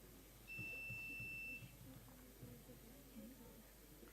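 A quiz-contest buzzer gives one sustained electronic beep of about a second at an inter-school general knowledge quiz, standing out over a hall murmur and background talk.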